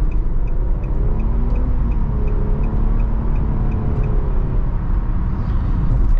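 Steady, loud cabin drone of a 2022 Nissan Murano with its 3.5 V6 engine and CVT while driving, a constant low rumble with smooth engine hum and no speech.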